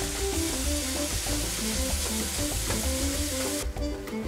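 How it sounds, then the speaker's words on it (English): Fresh diced tomatoes go into meat frying for Filipino picadillo, setting off a loud, steady sizzle with stirring scrapes and a clattering rhythmic pattern throughout, with no talking. "Then we're going to add the fresh diced tomatoes."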